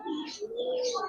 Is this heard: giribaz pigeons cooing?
yes